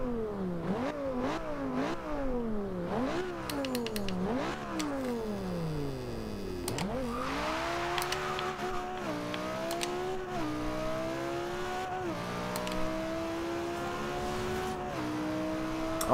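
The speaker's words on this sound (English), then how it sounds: "definitely hear those twin turbos spooling" A twin-turbo 2011 Lamborghini Gallardo LP570-4 Superleggera engine in Forza Horizon 2 revs up and down repeatedly through gear shifts, then settles into a steady high-pitched drone with a faint turbo whistle.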